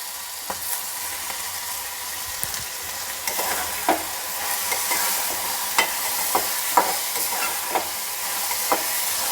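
Vegetables sauté in a hot pan for a Marathi brinjal and pavta bhaji, giving a continuous close sizzle punctuated by regular spatula scrapes and taps as they are stirred, with no talking.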